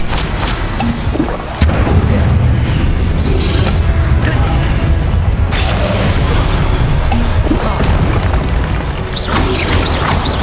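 An Incendio fire spell in Hogwarts Legacy erupts with a sudden loud boom. A continuous roaring, crackling rumble follows, with scattered sharp cracks, and no voice is heard over it.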